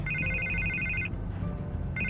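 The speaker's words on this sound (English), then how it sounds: "I can't get the phone to stop ringing." A telephone rings in Batman: The Telltale Series, two bursts of an electronic trilling ring separated by a pause over a low game ambience, with no talking.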